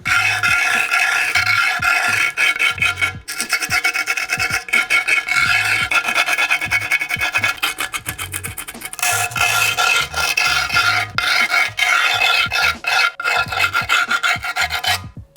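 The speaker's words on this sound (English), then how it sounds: "So now we're gonna need to file the sides down." A hand file rasps repeatedly along the sides of a custom scooter part, a close, loud series of rhythmic back-and-forth strokes with short pauses between passes, and no talking.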